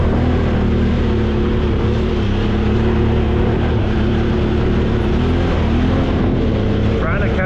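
A Honda Talon X side-by-side in four-wheel drive low grinds along a muddy trail, its engine a loud, steady drone with wind buffeting throughout.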